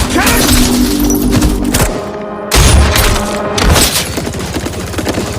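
Sniper rifle gunshots ring out in a film action scene, loud sharp booming cracks in a dense burst with a brief silent gap, then more blasts and crashing impacts up close.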